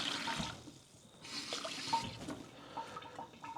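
Water runs and splashes into a cooking pot being filled for Thai pad kra pao, a close, fairly quiet trickling and gurgling pour that comes in uneven bursts.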